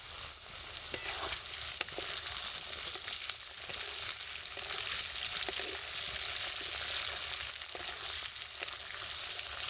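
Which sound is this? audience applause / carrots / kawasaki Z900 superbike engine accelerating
carrots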